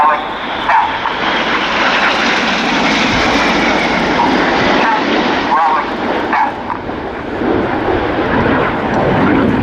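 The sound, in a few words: Red Arrows display team jet aircraft flying overhead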